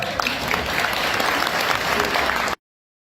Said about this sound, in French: Donc, je pense qu'on peut l'applaudir.